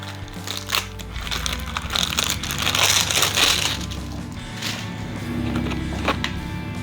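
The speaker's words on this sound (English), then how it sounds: "Now we're going to unwrap our pedals." Bicycle pedals for a Jamis Boss Cruiser 7-speed being unwrapped, giving steady close crinkling and crackling of packaging, loudest in the middle and then easing off, with no voices.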